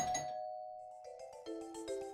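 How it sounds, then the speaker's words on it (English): Doorbell chiming in the PC video game The Silver Case, a faint electronic ding-dong tone followed by a quieter run of repeated chimes, with no voices. "Oh, but I hear a doorbell though."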